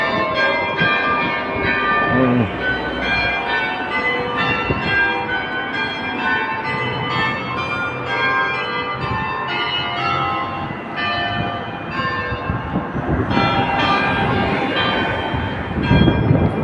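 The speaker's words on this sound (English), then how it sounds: "We caught the bells tolling." Church bells tolling continuously in Nyborg, Denmark, with rich, ringing overtones, loud and sustained, blending into a dense wash of metallic resonance.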